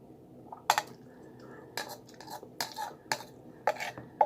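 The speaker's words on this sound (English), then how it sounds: "Stir it up. Let it fry for a little bit more." Chickpea masala gravy stirred and fried in a pan, with a few distinct scraping clinks of a utensil against the metal spaced a second or so apart, over a low sizzling background.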